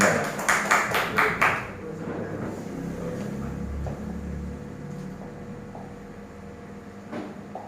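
An audience in an indoor hall at a religious affairs training session gives a short burst of about half a dozen rhythmic claps, then falls into quiet room murmur and faint background noise.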